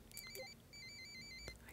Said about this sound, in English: get a phone call.